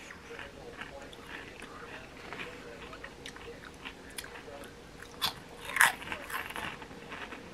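Crunchy puffed chili cheese snacks are bitten and chewed close to the microphone, a series of sharp crisp crunches growing louder toward the end over a quiet background.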